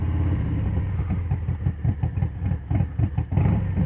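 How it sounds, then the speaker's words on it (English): A Harley-Davidson Street Bob 114 V-twin with a Stage 2 setup rumbles at low revs with an uneven, choppy exhaust beat, close and loud. "When you're at idle or you just crank it a little, it definitely has that chop"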